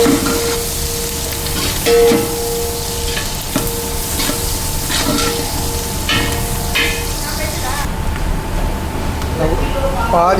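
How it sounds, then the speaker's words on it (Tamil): Chopped onions and green chillies sizzle and fry in hot oil in a pan for veg pulao, with steady loud crackling and occasional stirring throughout, a voice talking over the cooking. "வெங்காயம் போட்டு நல்லா வதக்க போகிறோம்."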